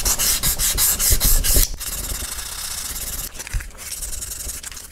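Rapid rhythmic rasping strokes of sandpaper rubbed back and forth over Stratocaster guitar frets, then a softer continuous scraping hiss after a brief pause.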